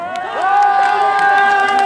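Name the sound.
crowd cheering and applauding for a singer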